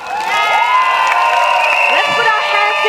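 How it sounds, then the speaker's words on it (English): Crowd at a PAP political rally for Sengkang GRC in Singapore cheering, shouting and applauding to welcome the Sengkang team, a loud continuous wall of voices and whoops with clapping underneath. "Let's put our hands together today and give a warm round of applause to welcome the PAP Sengkang team"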